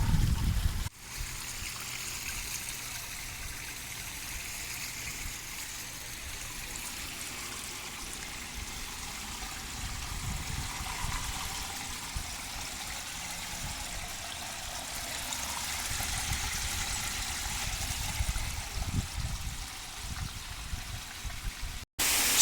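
Water runs through a pipe into an aquaponics fish tank as a steady, gentle rushing trickle, constant from start to finish and fairly quiet, with no voices over it.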